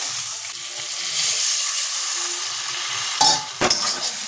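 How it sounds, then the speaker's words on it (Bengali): Prawns coated with salt and Kashmiri chili powder are tossed in a hot pan, a continuous close sizzle that ends in a few sharp scraping stirs, with no voices. "এবার চিংড়ি মাছটার মধ্যে একটুখানি নুন আর দিয়ে দিলাম কাশ্মীরি লাল লঙ্কার গুঁড়ো।"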